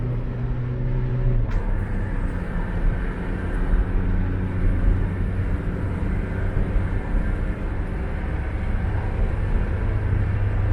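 A Toyota Grand Innova with a 2KD diesel engine revs up under throttle. The steady, loud rumble holds for about ten seconds, a low drone with the pitch rising slightly after a shift early on, and nobody speaks.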